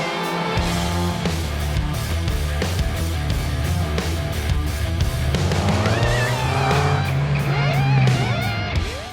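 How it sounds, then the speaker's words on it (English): A very rapid Porsche 911 rally car races around the Mulkirk and Kames kart circuit during a Le Jog test stage, its engine roaring loudly and continuously, with rising revs and tyre squeal as it corners close by. "Peter Lovett and Rob Kiff posted the quickest time in their very rapid Porsche 911"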